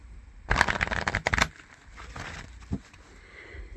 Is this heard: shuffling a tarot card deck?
yes